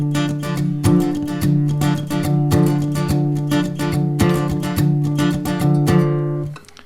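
Acoustic guitar strums the chord progression of a song in a quick, driving rhythm of muted percussive hits and ringing chords, close and loud, ending on a fading chord.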